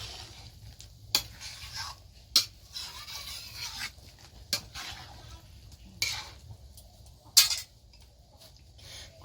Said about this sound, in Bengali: এবার সুন্দর করে নেড়ে চেড়ে নেব।